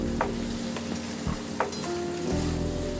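Chopped tomato sizzling in a hot pan with salt and turmeric for a masala mushroom dish, a steady close frying hiss broken by a few scraping stirs.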